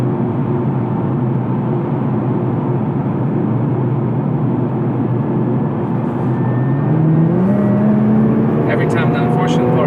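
A car accelerating hard from inside the cabin, a steady dense engine roar with a tone that climbs through the gears toward the end, constant and loud throughout, with no talking.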